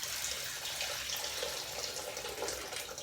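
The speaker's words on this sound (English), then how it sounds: "I'm actually going to fill the sink up." Tap water runs steadily into a bathroom sink as it fills, a continuous close rushing splash with no talking.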